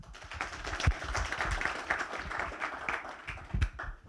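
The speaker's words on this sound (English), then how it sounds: "Please give him a round of applause" Scattered audience clapping at a blockchain and cryptocurrency event in Nairobi, Kenya; individual claps stand out in an uneven, moderately faint round with little talk.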